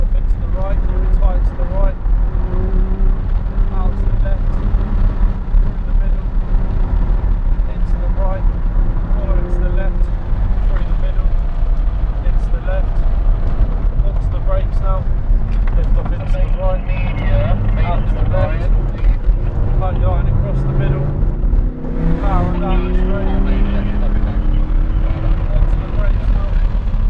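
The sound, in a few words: Audi R8 V10 driving a lap on a wet track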